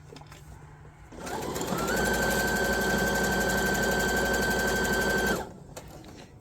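Sewing machine running a continuous seam around a drawstring bag made from a t-shirt, a loud, steady motor whir with rapid stitching for about four seconds, starting and stopping cleanly against quiet room noise.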